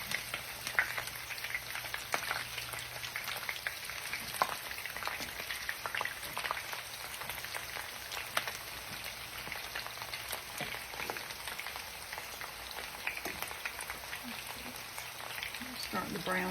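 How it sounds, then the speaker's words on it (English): Onions fry in a pan with a continuous crackling sizzle, full of fine pops, at an even moderate level from start to finish. "Do that sizzle."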